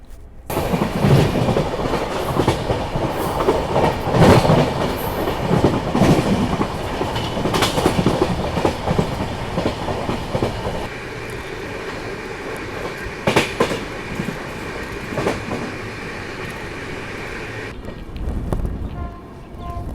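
The Ajmer–Mysuru Express rolls steadily along the tracks approaching Palanpur Junction, wheels clattering loudly and continuously, the rumble easing slightly toward the end.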